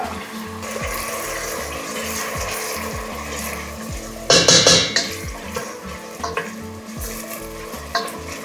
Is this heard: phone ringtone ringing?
no